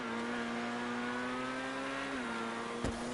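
In GTA V online stunt racing, a race car engine holds a steady, high, buzzing rev with a constant whine, then gives a brief knock near the end.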